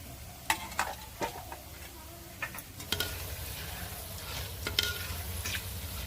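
Green boondi made from batter drops fries in hot oil with a continuous close sizzle, broken by several sharp clinks of a ladle or skimmer against the pan.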